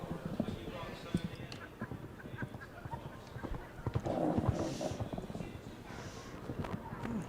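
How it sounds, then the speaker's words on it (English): A show jumping horse moves around the arena at an international speed final, its hoofbeats soft and rhythmic in the distance under a commentator's voice and crowd murmur. "Just letting the horse settle a little bit."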